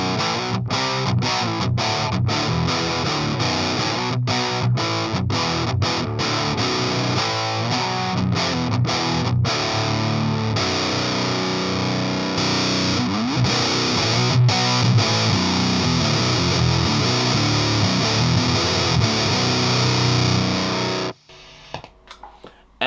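An electric guitar played through a Lichtlärm Ritual modded red fuzz pedal into a Coven Origin 50 hot-rodded Marshall-style amp, with thick, saturated fuzz chords and single hits ringing loud and continuous for about twenty seconds before cutting off abruptly.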